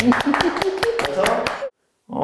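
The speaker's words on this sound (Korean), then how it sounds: "박수 한번 칠까요?" A small audience gives a brief burst of scattered, close hand claps at a talk in the Korean National Assembly about medical cannabis legislation. Voices mix in, and the sound cuts off abruptly.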